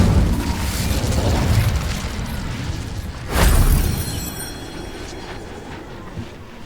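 An Incendio fire spell blasting in Hogwarts Legacy, a rumbling whoosh over loud game ambience with one heavy boom swelling midway before fading.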